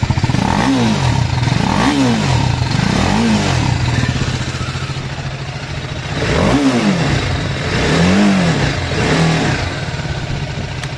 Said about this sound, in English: So this is the exhaust note of the Apache RF310.